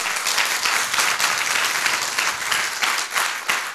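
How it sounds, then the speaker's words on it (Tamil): Audience at a Tamil business training session breaking into loud, sustained applause, dense clapping filling the room steadily with no voices over it. "உங்களுக்காக ஒரு பெரிய பாராட்டு கொடுங்க"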